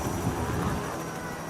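Helicopter camera ship flying low over a powerboat racing event on a waterfront, a steady rumbling rotor and engine drone filling the scene at close range with faint voices underneath.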